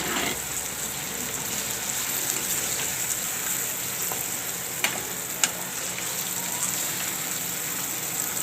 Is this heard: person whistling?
no